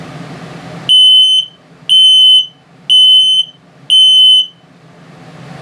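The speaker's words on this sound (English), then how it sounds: "And low battery alarm." Low-battery alarm on an RV LP gas and carbon monoxide detector, hardwired to the battery in a 2021 Crossroads Sunset Trail 212RB travel trailer, sounding four loud, evenly spaced piercing beeps, each about half a second long, close by with no talk.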